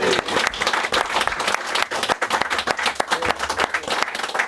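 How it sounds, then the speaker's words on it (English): Sustained crowd applause celebrates a win by Ipswich Town women, a thick wash of clapping with loud individual claps up close, continuing unbroken. "Keep the applause going because Ipswich Town women won a game!"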